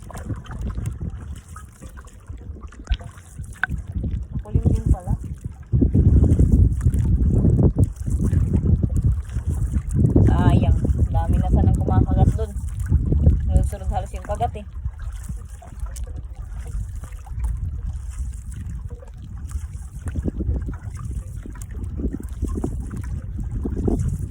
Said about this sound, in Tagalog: kasi malakas yung hangin oh